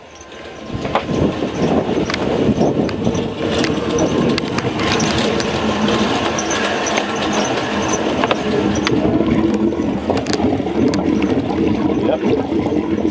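A boat's starboard engine starts and then runs, and cooling water gushes from the outlet. The engine rises into a loud, steady churning roar with a rushing, splashing water sound on top.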